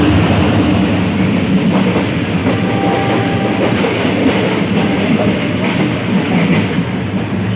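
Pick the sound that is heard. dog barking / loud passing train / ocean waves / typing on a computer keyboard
loud passing train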